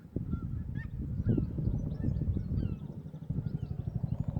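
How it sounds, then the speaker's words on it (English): Several geese honk repeatedly in flight over the coast at Birling Gap, overlapping calls over a low rumbling helicopter drone in the background. "The geese are flying."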